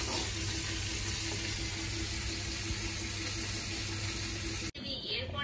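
Vegetables fry in a pan on a home stove, a continuous dense hiss holding steady at close range until it cuts off abruptly near the end.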